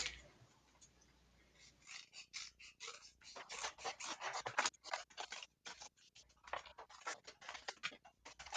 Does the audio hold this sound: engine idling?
no